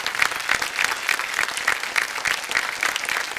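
A TV quiz show studio audience claps steadily, a dense patter of many hands at moderate loudness, with no voices over it.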